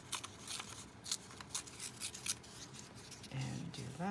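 A page of a fabric pocket book is torn, heard as close, rough ripping and rubbing strokes in short bursts, with a voice speaking briefly near the end.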